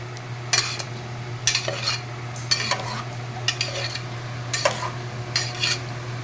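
Goat intestines with onion, ginger, garlic, cinnamon, turmeric and salt being sautéed under a low sizzle, with regular loud scrapes and clinks of a spatula against the pan, near and without talk.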